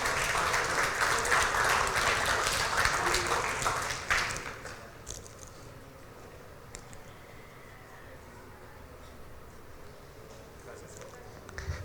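A church congregation applauds during a Sunday sermon, full dense clapping for about four seconds that then stops abruptly, leaving a quiet room with faint scattered noises.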